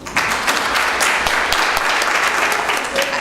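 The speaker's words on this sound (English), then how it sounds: "Please give yourself a round of applause." An audience at a business school event in Durban breaks into loud, sustained applause, dense clapping that fills the whole moment without pause.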